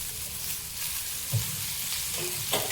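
Bitter gourd for a pickle sizzles in a small amount of hot oil, giving a steady, close hiss with a couple of soft knocks.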